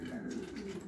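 Pigeons in a loft on a cold, frosty day give a soft, low cooing, faint and close, lasting under a second.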